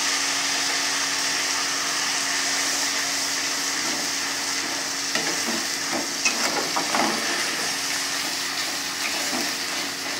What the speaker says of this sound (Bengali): মশলাটা আমি কষাবো